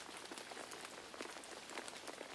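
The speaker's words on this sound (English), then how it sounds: "The sky darkened some more, and the rain fell heavier." Heavy rain falling steadily on a surface, a dense even patter of drops that stays constant and fairly close throughout, with no voices.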